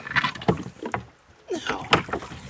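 Soft watery swishes and gurgles of an oar dragging through water from a canoe on a river, quiet and close, with a gentle lull midway.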